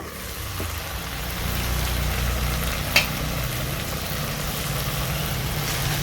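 Banana flower (mocha) sautéing with spices in a pan gives a steady, close sizzle and crackle, with one brief sharper knock partway through and no talk.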